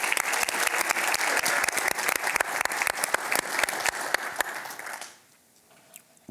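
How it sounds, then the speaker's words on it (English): An audience at an investor conference applauds in a dense, steady burst of clapping that fades out after about five seconds, leaving near silence. "great round of applause,"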